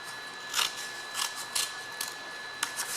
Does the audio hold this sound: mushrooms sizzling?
no